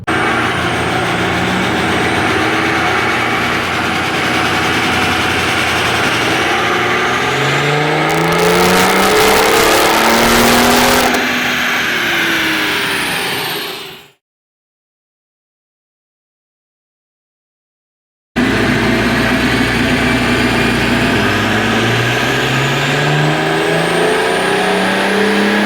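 A BMW 335d turbo diesel loud on a dyno, revving through rising pulls with engine tone sweeping upward, then a brief cut to silence before the engine roars again at high load.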